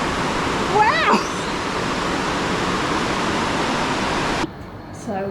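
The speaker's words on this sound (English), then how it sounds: "You'll be flat out hearing me over the river." A rushing river in Sri Lanka pours out a loud, steady broadband roar, with a whistle-like sound briefly rising over it and the roar dropping away sharply near the end.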